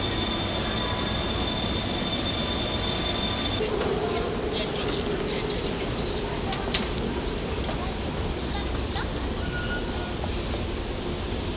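A steady rumble of a train to Busan, South Korea, moving along the rails, with faint squeals and clatter over a constant low roar.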